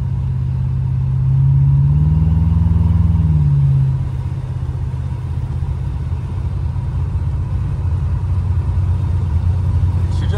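A 1986 big block Buick Regal Limited with Holley EFI cruises along back roads, its engine a steady deep low rumble that swells briefly as the revs rise and fall, then settles into an even drone, close and continuous throughout.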